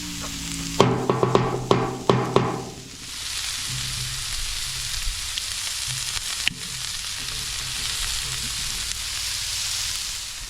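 Vegetables hit a hot lard-seasoned griddle with a few quick scraping clatters, then settle into a steady, moderately loud sizzle that continues alone with occasional small pops.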